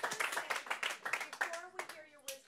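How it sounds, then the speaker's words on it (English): A small panel audience claps in sparse, uneven hand claps at close range, short and fairly quiet, with a voice faintly underneath. "And can we give Shelley one more round of applause before we get this going?"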